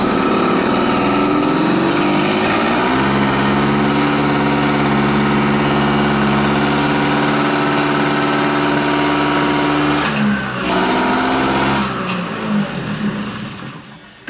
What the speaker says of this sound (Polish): nawet trzeba dodać gazu, żeby ten silnik odpalił.